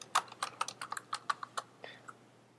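Close, crisp computer keyboard keystrokes while a player name is entered in PES 13, about a dozen quick irregular clicks over a quiet background hum.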